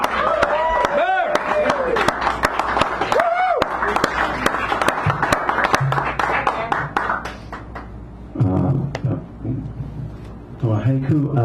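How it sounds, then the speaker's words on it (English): Audience clapping for a poet at an open-mic poetry hour in a San Francisco café, dense claps across the room with whoops and a loud cry over them, tapering into scattered claps and talk toward the end. "Give him a nice round of applause, ladies and gentlemen."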